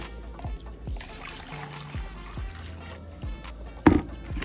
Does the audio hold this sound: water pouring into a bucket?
yes